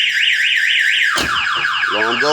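A Chevrolet box car's alarm wails in a rising-falling siren tone, then switches to a different warbling pattern with rapid chirps, loud and close throughout.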